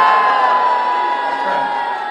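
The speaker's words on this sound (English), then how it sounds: "Sounds like you've been getting booed a lot this weekend." A convention audience at a Misha Collins panel booing loudly and steadily, a sustained crowd roar with no gaps across the short stretch.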